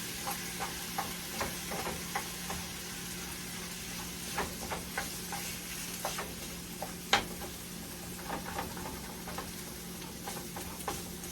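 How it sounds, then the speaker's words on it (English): Ground turkey being stirred in a hot pan gives a steady low sizzle, with scattered scraping ticks and small pops from the spoon throughout. "Mixing that up real good."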